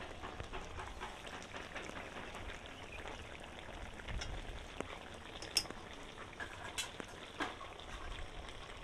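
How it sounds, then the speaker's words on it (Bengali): Taro pieces and eggplant cooking in a pan, giving a quiet, steady bubbling and sizzling hiss with a few soft clicks and taps scattered through it and no talking. "কচুটা হাফ সেদ্ধ হয়ে গেছে, এবার আমি এর উপরে বেগুনগুলো দিয়ে দেবো।"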